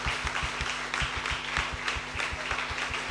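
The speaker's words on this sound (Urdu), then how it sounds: "زوردار تالیاں خدا کے جلال کے لیے." A church congregation at an Ash Wednesday service claps in a steady, even rhythm, loud and sustained throughout with no talking over it.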